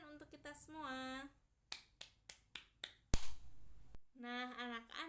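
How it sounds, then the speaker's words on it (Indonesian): About five sharp hand claps in a quick, uneven burst during a primary-school classroom lesson, with a voice talking before and after. "Beri tepuk tangan untuk kita semua."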